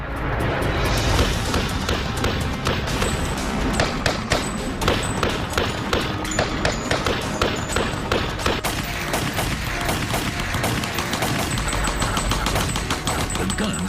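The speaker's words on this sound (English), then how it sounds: "The guns could fire more than 800 rounds per minute." Sustained machine gun fire from Prohibition-era gangland guns, rapid bursts of rounds crackling densely and loudly for the whole stretch with heavy thuds mixed in.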